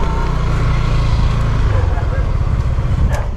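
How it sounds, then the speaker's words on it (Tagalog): Kawasaki motorcycle engine running steadily at idle, a close, continuous low rumble with a regular throbbing pulse, with some faint background noise. "Malakas pa rin ang motor ni Kewaning."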